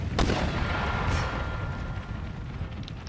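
Artillery and musket gunfire from a battle in Empire: Total War with the DarthMod mod, a dense, continuous rumble of booms and cracks that holds loud throughout, with a couple of sharper bursts near the start.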